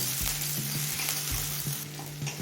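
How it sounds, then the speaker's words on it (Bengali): Chopped onion fries in a pan with bay leaf and dried red chili, giving a steady close sizzle broken by regular scrapes and knocks of a spoon stirring it. "পেঁয়াজটা হালকা লাল করে ভেজে নেব"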